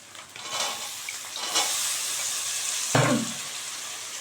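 Two finely chopped medium potatoes dropped into a pan of onions, a steady frying hiss with a sudden louder sizzle burst as they land, plus faint stirring.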